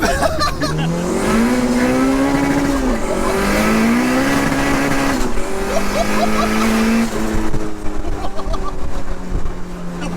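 A 370bhp VTEC turbo Mini accelerates hard, its engine note climbing repeatedly through the revs with brief dips at shifts, loud and close inside the car while tires break traction.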